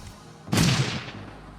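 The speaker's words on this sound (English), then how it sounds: "Did he just throw a grenade on me?" A grenade blast in the role-playing game Shadowrun Returns, a single sharp explosive burst with a deep thump that decays over about a second, fairly loud against a quiet low hum.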